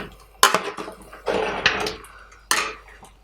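A spoon stirs and scrapes through spices in a large pot of beef korma, giving a few loud metallic clanks and scraping sweeps close by.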